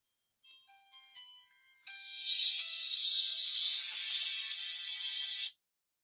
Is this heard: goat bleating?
no